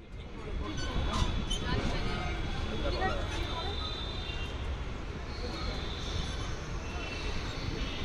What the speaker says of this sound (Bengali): নৈহাটি স্টেশন থেকে আমাদের ট্রেন যাত্রা শুরু করলো